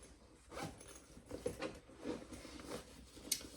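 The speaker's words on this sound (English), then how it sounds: "let's open our zipper." Zipper on a Ciana Caramel Ostrich leather bag being opened, several short scratchy zipping runs spread across the clip, close and fairly quiet with light handling noise.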